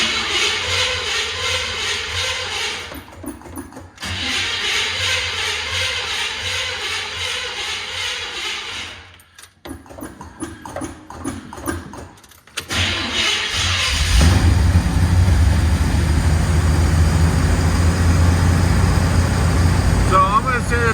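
An old car engine cranks and stutters after a few carburetor pumps, then catches and settles into a loud, steady run, with a short silence between attempts.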